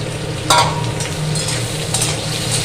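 Sliced okra fries in hot oil in a pan, a steady dense sizzle with a brief louder crackle burst near the start and occasional spatter flares.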